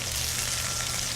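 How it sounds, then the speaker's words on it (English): Chicken thighs browning in a hot pan give off a loud, steady sizzle of frying fat that runs without a break and with no talking over it. "Quite a high sizzle there."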